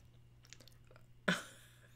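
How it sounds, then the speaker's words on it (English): Someone chews food close to the microphone with faint soft mouth sounds, then one louder crunchy bite stands out near the end. "I'm chewing it."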